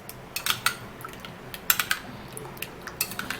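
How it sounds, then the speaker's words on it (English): A spoon stirring a homemade skin remedy mixture in a small container, making light, quick clinks and taps at an uneven rhythm, close and fairly quiet. "So I'm actually gonna be stirring this all up"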